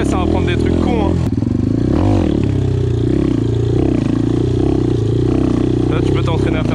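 A motorcycle used for wheelie practice revs and rides with a loud, close engine drone that rises and falls. Someone talks over it throughout, and there is some light clatter.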